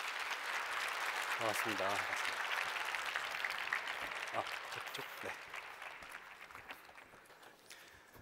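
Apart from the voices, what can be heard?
audience applause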